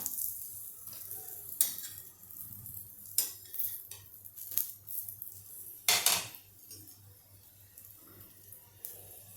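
A paratha fries in oil on a pan with soft sizzling, punctuated by several clinks and scrapes of a utensil against the pan, close and quiet, no talking.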